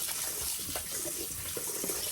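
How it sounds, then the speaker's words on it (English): Water running and sloshing steadily as five cups of rice are washed under a tap, a continuous close splashing hiss with small stirring accents. "you're gonna wash your rice until the water is white"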